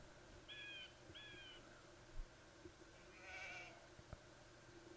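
Sheep in the Age of Empires II video game give two short bleats, then a third a few seconds later, quiet and synthetic over a steady low game soundtrack hum.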